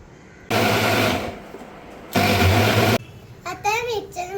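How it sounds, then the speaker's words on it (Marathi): A mixer grinder blends litchi ice cream mixture in two loud whirring motor bursts of about a second each, separated by a pause, followed by a voice talking. "आता आपण हे मिक्सर मध्ये गोल गोल गोल फिरवूया"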